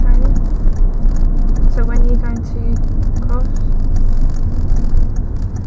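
A car passes on the road during a driving lesson, its engine and tyre rumble rising and easing across several seconds, heard from inside the vehicle under a voice talking.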